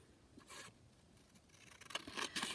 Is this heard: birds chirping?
no